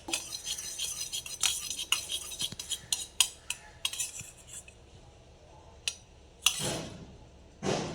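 A spoon scrapes and clinks against a bowl while mixing chicken marinade with curd: irregular metallic taps and scrapes, close by, with a few louder knocks near the end.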